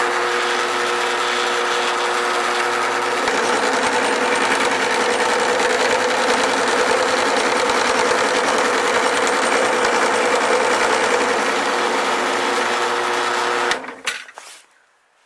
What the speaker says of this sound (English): We'll go ahead and roll crimp.